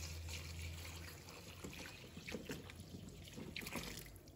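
Water trickling and sloshing in a basin as cut sweet potato pieces are rinsed, with steady close splashing and dribbling.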